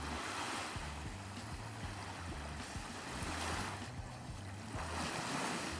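Sea waves wash steadily onto a long beach in Gdynia, a continuous surf with gentle swells and some wind noise, heard without any talk.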